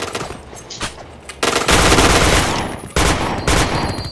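Gunfire in a video game, bursts of rapid loud shots in several clusters, close and harsh, with brief gaps between volleys and no talking.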